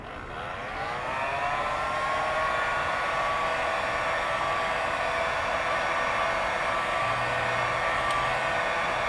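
A heat gun warms the adhesive of a performance decal on a car fender, a steady, loud blowing whoosh with a rising whine as it spins up, close and continuous.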